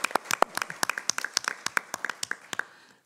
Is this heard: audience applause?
yes